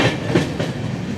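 The Tebhaga Express, a 13162 service running a new LHB rake, rolls on after crossing the Farakka barrage, with a steady close rumble and faint rhythmic wheel clatter.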